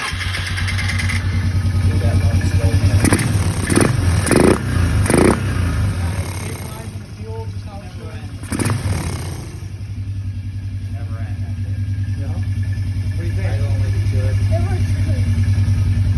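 A four-wheeler ATV engine after a carburetor needle fix, running at a steady idle with a couple of brief throttle blips early on. The tone settles and wavers a little, and people talk over it.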